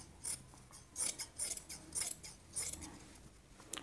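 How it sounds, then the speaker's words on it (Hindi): Scissors snip through blouse fabric while a sewing sleeve is trimmed, with about seven short crisp cuts coming close together at an uneven pace, fairly quiet and with no voices. "कट भी कर सकते हैं।"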